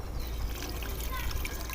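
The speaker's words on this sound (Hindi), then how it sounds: "1 गिलास पानी डालना है हमने" A glass of water is poured into a pot of meat seasoned with half a spoon of salt, making a steady close trickle that runs unbroken for the whole moment over a low background rumble.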